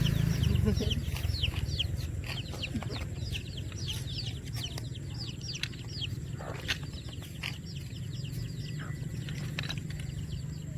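Chickens clucking outdoors near rice paddies, a busy stream of short repeated clucks and calls from several birds over a continuous low rumble, with a burst of louder noise at the very start.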